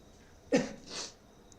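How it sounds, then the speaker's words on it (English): A single sharp sneeze bursts out, followed by a breathy exhale, in an otherwise quiet room. "now I'm suffering from sneeze"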